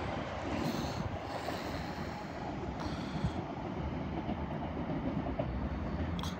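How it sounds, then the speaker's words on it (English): Class 385 electric train, unit 385113, pulling away from Edinburgh Haymarket station on the 14:37 service, a steady low rumble of wheels and rail running throughout with light wind noise and no talk. "departing now the 1437 Scotland service from Edinburgh Waverley to Dublin"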